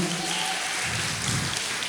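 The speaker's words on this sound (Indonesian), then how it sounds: "Tepuk tangan dulu buat Mas Baki." An audience at a school talk on bullying claps for a guest named Mas Baki, a dense, steady patter of many hands filling the room for a couple of seconds.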